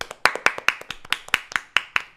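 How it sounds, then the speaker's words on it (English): A small group claps out in a home during a live broadcast, giving about ten sharp, closely spaced claps in an uneven rhythm, close and fairly quiet, with no talking over them. "We're gonna clap you out."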